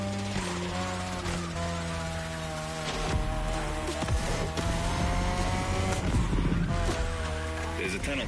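Third-generation 2002 Mazda RX-7 with a lightweight rotary engine, racing in The Crew Motorfest: a steady, loud, high-pitched engine drone holds throughout, with tire noise and occasional squeals beneath a continuous game soundtrack.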